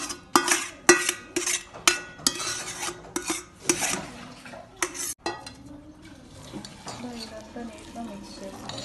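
Masala being stirred into rice in a metal pot for Karnataka-style bisi bele bath: rhythmic spoon scrapes and clanks against the pot, close and steady, then softer stirring while a voice murmurs faintly toward the end.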